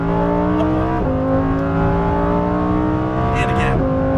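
Lamborghini Huracan Performante on a race track at Exotic Racing in Las Vegas, its engine loud and close as it accelerates hard through two upshifts, the pitch climbing steadily between each gear change.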